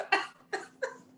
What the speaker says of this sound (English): I feel like I'm about to have a cough attack.